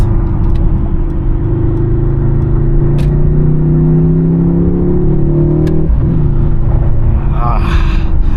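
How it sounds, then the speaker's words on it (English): A Mercedes-AMG C63 S coupe (W205) idles and burbles through its exhaust: a loud, close, steady engine drone with a low throb, a brief sharp crackle and dip partway through, then the rumble resumes. "You also get some burbles from the exhaust."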